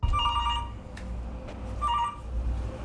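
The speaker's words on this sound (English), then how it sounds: "phone has been steadily ringing." A telephone rings in two clear bursts with a short gap between them, moderately loud and close, over a low background hum with no talk.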